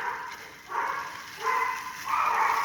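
Pet dogs bark in a kitchen while someone cooks spaghetti, set off by a tapping sound on a can; three rising bursts of barking and yipping, moderately close, with no talk over them.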